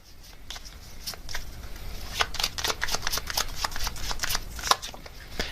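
Tarot cards being shuffled by hand: quick, close, papery riffles and slaps in irregular bursts, growing busier toward the end.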